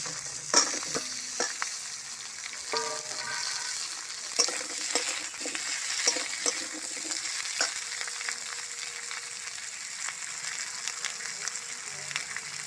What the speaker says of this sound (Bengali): মশলার মধ্যে উচ্ছে কুচিগুলো দিয়ে দিলাম, আলু কুচিগুলো দিয়ে দিলাম